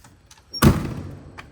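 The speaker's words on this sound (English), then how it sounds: "You have to really slam these doors now to get them to close" A vehicle door with new seals is slammed hard, a single close heavy thud with a short rattling decay, then quiet.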